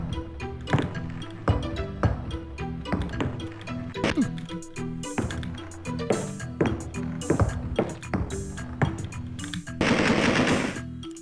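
Rapid gunfire from the video game Alone in the Dark 2, a series of sharp bursts repeating over game music, with speech heard in parts and a louder noisy burst near the end.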